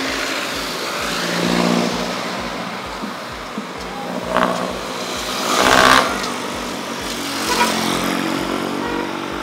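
A car passes on a downtown street in Mabalacat City, Pampanga, Philippines. Its engine swells and fades over a steady low rumble, rising most clearly midway through with no talking.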